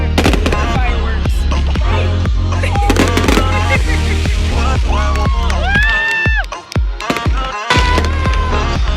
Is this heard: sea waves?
no